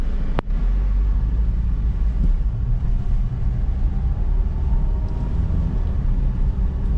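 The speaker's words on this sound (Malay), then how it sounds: "Let's go, kita test run kereta." A 2014 Perodua Myvi 1.3 SE with automatic transmission on a test drive, giving a steady low engine and road rumble heard from inside the cabin, with a brief knock near the start and no talk.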